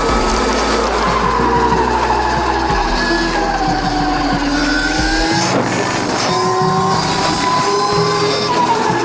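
A 16kW ETM RTR RC car spins its wheels in thick mud, the electric motor whining loudly with rising and falling pitch throughout, wet slurry churning under the close, continuous roar.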